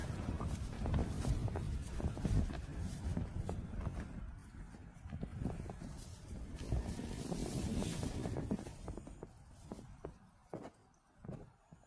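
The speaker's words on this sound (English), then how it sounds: "I know it's windy" Gusty wind buffets the microphone in rough, rising and falling surges, with scattered thumps and rustles mixed in.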